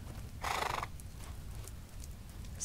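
Horse neighing in the online game Lord of the Rings Online: a single bright whinny lasting about half a second, clear over a low steady game background, followed by faint scattered clicks.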